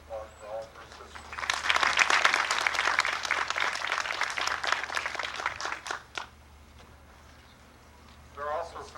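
An audience at a veterans memorial library dedication breaks into applause after a brief spoken line, clapping swelling quickly, holding for several seconds, then thinning out before a voice resumes.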